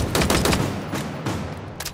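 Gunfire in Halo Infinite during the Spartan Academy tutorial as targets are shot, with a rapid burst of several loud, close shots followed by a few more spaced single shots.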